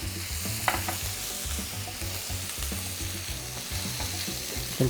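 Vegetables, tomato and onion with a spoonful of garlic, sizzle steadily in a pan for spaghetti with tuna, with repeated stirring scrapes in a rhythmic pattern, close and alone.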